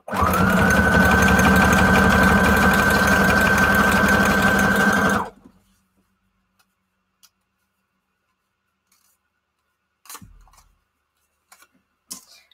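A sewing machine stitches paper fast and steady for about five seconds, then stops, followed by a few faint clicks and small handling sounds.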